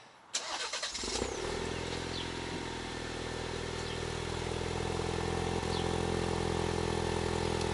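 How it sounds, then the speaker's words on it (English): An Alfa Romeo Stelvio Ti Sport with a Centerline Stradale exhaust cold-starts: a brief starter crank catches into a loud, steady idle that holds close and continuous. "So that's the initial cold start."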